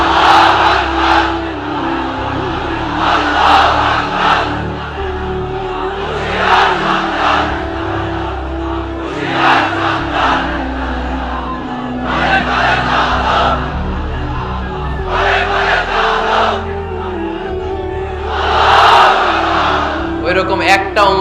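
At a Bengali Islamic waz sermon, a large crowd roars back in about seven loud, sustained shouted responses. Between the shouts a preacher speaks energetically over an amplified sound system.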